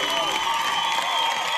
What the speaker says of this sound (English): Go ahead and applause for Sundays.